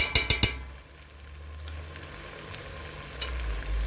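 Tomato paste frying in a pot of Uzbek meat soup, starting with a quick burst of four metallic clinks, then a low steady sizzle with soft stirring, close.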